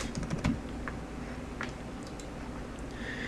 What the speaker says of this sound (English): So I'll type in Mike here for my